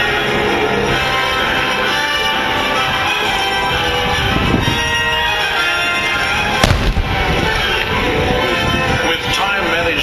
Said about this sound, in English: now doing his mop-up with his pyrotechnics display.